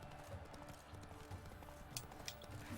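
Horse hooves clip-clop steadily in The Witcher 3, a quiet rhythmic trotting with an occasional faint neigh, heard alone without talking.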